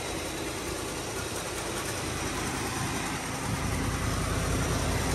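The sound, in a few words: 1969 Dodge Dart Swinger engine idling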